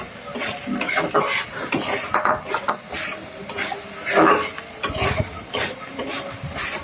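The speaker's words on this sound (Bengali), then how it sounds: "এখন কাঁচামরিচ আর পেঁয়াজ একটু উপরে ছিটিয়ে আর একটু নেড়ে নেব।" A spoon stirs and scrapes samosa potato filling with green chili and onion in a pan, a steady run of close, busy scraping and clinking with a light sizzle underneath and no pause.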